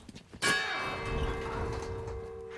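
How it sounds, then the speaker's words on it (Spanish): A church bell in the horror game Resident Evil 4 Remake strikes once loudly and close, its metallic tone ringing on and slowly fading after a few faint clicks. "La campana."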